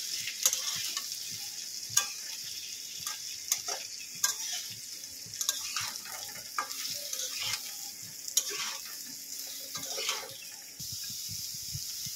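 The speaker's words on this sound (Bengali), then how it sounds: "লবণ দিয়ে দেবো, অল্প একটু হলুদ দিয়ে দেবো। ভালো করে একসঙ্গে মাখিয়ে নেব।" Pieces of pointed gourd are mixed with salt and turmeric in a bowl, giving faint, scattered clicks and soft scraping taps at an irregular pace, quiet and close, with no voices.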